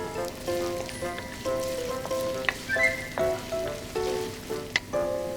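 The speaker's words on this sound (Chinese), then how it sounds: "热锅起油，下洋葱，" Diced onion and carrot fry in hot oil in a wok for egg fried rice, a soft, continuous sizzle with light crackles beneath a melodic music track.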